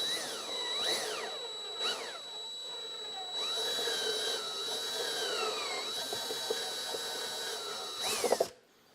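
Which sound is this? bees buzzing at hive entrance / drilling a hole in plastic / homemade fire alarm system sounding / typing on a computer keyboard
drilling a hole in plastic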